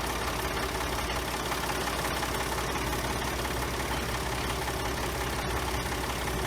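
A conveyor auger engine in Farming Simulator 22 runs at a steady idle, a continuous low mechanical drone with no talk over it.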